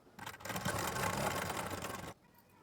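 A sewing machine stitches tacks on a blouse lining in one quick, steady run of about two seconds, whirring close and then stopping abruptly.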